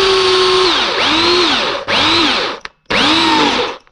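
An electric drill enlarges holes in bracket stock while a cab is fitted to a Massey Ferguson tractor, heard as loud close whining bursts that rise and sag in pitch under load, with brief pauses between passes.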